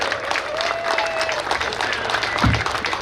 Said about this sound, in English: all our competitors, give them a round of applause right now